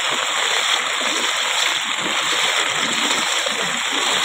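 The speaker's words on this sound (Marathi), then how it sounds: "व्हाळाक पाणी तर भरपूर आहे" A swollen village stream in the Konkan rushes steadily at close range, a loud, dense, unbroken roar of flowing water with no voices over it.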